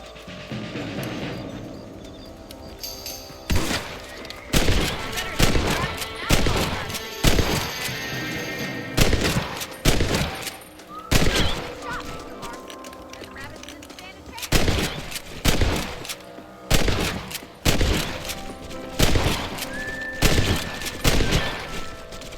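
Rifle fire at rabbits in Red Dead Redemption: loud, close shots crack in irregular clusters throughout, with outdoor game ambience and occasional voices between volleys.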